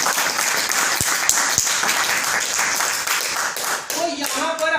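An audience at a Kanpur de-addiction centre session breaks into dense, sustained applause, many hands clapping together loudly, with a voice speaking over the end.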